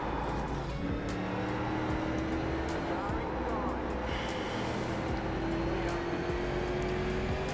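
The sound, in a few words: race car engine in iRacing video game, car sliding out of control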